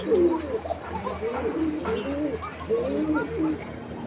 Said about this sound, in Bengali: খুব সুন্দর কবুতর এগুলা, ডাকের শব্দ শুনেন।